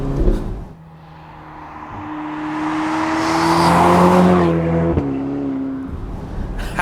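A Ferrari Portofino drives on a greasy, wet, cold road, its engine note rising in a long loud swell, then easing off with a shift blip and tyre hiss.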